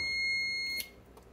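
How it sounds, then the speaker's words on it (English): A handheld multimeter on a pinball repair bench, a Williams System 11 Earthshaker board, gives a steady high electronic beep lasting under a second as it powers off, then cuts to quiet room tone. "It's my multimeter telling me that it's turning off."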